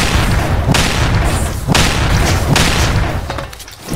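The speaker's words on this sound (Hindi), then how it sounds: "आई थिंक ये ग्रेनेड लॉन्चर है" Grenade launcher in the battle royale game Ark of Horizon firing a few loud booming blasts with broad noisy bursts spaced about a second apart.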